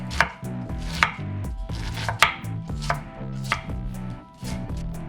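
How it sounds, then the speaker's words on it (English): A knife chops onions on a board at close range in quick, regular strikes, with a low humming tone running under the steady rhythm and no one talking. "Our famous onion cutting season"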